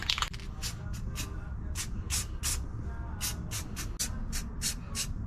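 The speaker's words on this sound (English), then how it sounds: "We're just spraying over it like this." A spray gun lays a tack coat of paint on car parts for a lowered LS-swapped OBS truck, a series of short hissing bursts in steady rhythm over a low garage hum.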